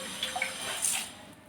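Water is poured into a greasy pan coated with liquid dish soap for cleaning, making a light, close splashing trickle with a few small drips, rising briefly and then fading.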